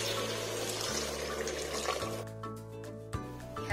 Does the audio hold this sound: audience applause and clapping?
no